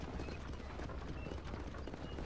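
Horse hooves galloping in Red Dead Redemption, a dense, steady clip-clop rhythm running throughout at close range over a busy game soundscape.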